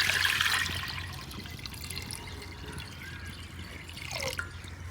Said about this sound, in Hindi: मिट्टी की हांडी जो है उसमें सबसे पहले हम डालेंगे पानी